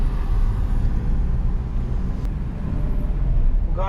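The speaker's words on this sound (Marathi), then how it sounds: "गाडी चालून एकदम स्मूथ वाटतंय" A 2024 Maruti Wagon R VXI CNG being driven, heard as a steady, close road and engine rumble from inside the cabin that holds an even level throughout.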